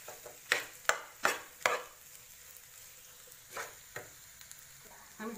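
Spoon stirring turmeric and salt into food in a pan: a handful of sharp scraping strokes in quick succession, then a pause and a few more, over a faint sizzle.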